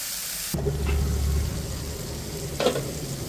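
Taro greens are sautéed in hot oil, a loud sudden sizzle bursting in as they hit the pan, followed by continuous frying crackle and a couple of stirring scrapes.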